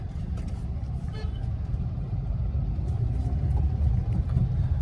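Car driving through road traffic during the day, a continuous low engine and road rumble with passing vehicles and a faint distant horn, steady throughout.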